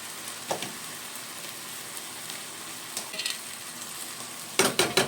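Minced meat for cabbage rolls sizzles steadily in a pan, a close, continuous frying hiss broken by a few sharp clinks and scrapes of a utensil toward the end.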